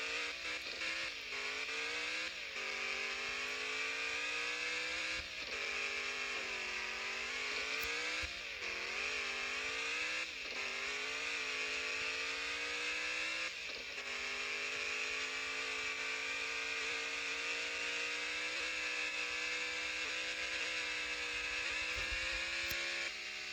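Speed buggy engine in the off-road video game Off-Road Outlaws, revving continuously with repeated pitch swoops as the throttle rises and falls, steady and prominent with no voices.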